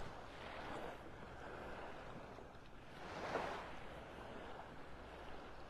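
Gentle waves wash onto the beach in North Naples, Florida early in the morning, two soft swells of surf rising and falling, faint and distant, with wind brushing the microphone.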